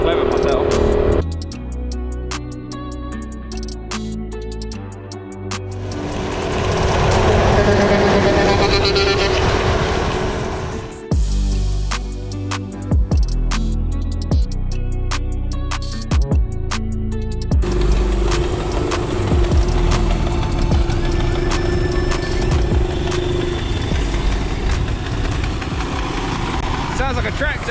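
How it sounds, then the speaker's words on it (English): A loud, rough engine chugs and rumbles steadily like a tractor, with changes in pitch and a few abrupt cuts, continuing for a long stretch. "Sounds like a tractor."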